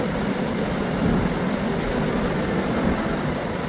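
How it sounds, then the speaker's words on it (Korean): An express train bound for Dongincheon runs through Guil station at speed, a steady, loud rail rumble with broad wheel noise that holds without a break throughout. "동인천으로 향하는 급행열차는 지체 없이 속도를 내며 구의역을 통과합니다"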